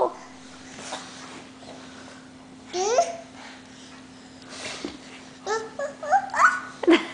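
A small child imitates a dog with short babbling yelps and whimpering sounds in a quiet room, in two brief bursts with a pause between them.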